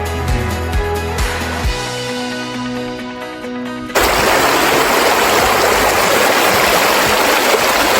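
Fast-flowing river water on a hillside route in Glen Feshie, a loud steady roar of rushing current that dominates the second half after music-like tones fade out.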